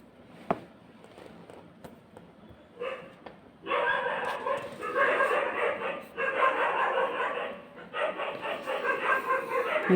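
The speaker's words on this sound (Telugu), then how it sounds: "బయట చూసారా కుక్కలు ఎట్లా మరుగుతున్నాయో?" Several dogs bark repeatedly in overlapping bursts, growing busier after a few quiet seconds, somewhat distant as if outdoors.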